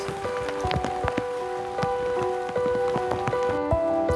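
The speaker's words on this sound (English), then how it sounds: "The sound of the rain is so romantic, walking in the forest on a rainy day." Steady rain patters on leaves and ground in Gotjawal forest on Jeju, with dense close drips and taps continuing throughout over a soft background hiss.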